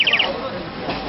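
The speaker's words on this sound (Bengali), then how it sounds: "পাখিতে জল ভরে ফু দিতে হবে" A water-filled bird whistle toy blown to warble like a cuckoo, giving a quick trill of bright chirps at the start of a short clip that then fades into softer breathy noise.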